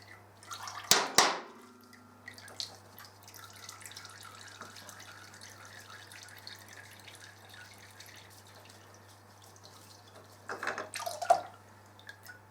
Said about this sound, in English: I'm just going to let it drain now till it's just a drip, just to get it all out.